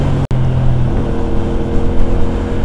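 A CFMoto motorcycle engine runs with a loud, close, rumbling drone, briefly cutting out near the start, then holding a steady throaty tone with slight rises.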